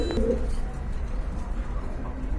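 A pair of Teddy high-flight pigeons coos softly nearby, one brief louder coo early on, then low continuous murmuring over a dull background hum.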